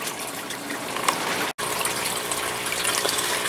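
Mint and curry plant cuttings plunked into a container of water, a continuous splashing, pouring wash with a brief break midway, fairly loud and close, no voices.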